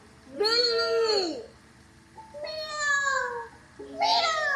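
Children mimic a cat's meow, three drawn-out, rising-and-falling meows with pauses between them, clear and close.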